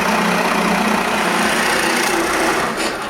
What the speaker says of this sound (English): I drill the first hole.